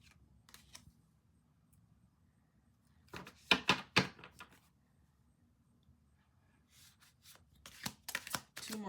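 Tarot cards are shuffled by hand in short crisp riffling bursts, a quick cluster in the middle and another near the end, close by against a quiet room.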